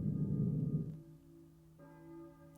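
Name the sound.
church bell ringing in Silent Hill video game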